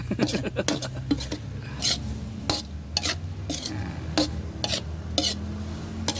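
Stir-frying frog in a pan for khua khae, with repeated scraping and clanking of a utensil against the pan over a steady sizzle, close and rhythmic with brief quiet talk.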